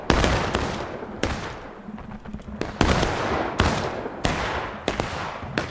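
Rifle gunfire in the Civil War game War of Rights, a battle of CSA and Union troops, with sharp loud shots cracking every half second to second, some overlapping, against a noisy battlefield background.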